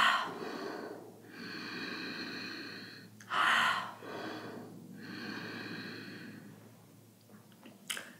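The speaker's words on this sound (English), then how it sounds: "So this is the Ujjayi sound." Constricted-throat Ujjayi yoga breathing, slow and close, with long hissing inhales and exhales in a steady rhythm and a brief sharper breath near the middle, heard alone without talk.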